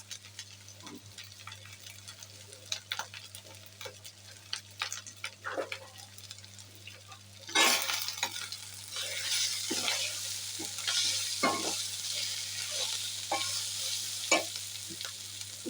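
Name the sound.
spice masala frying and being stirred in pan for hilsa bhuna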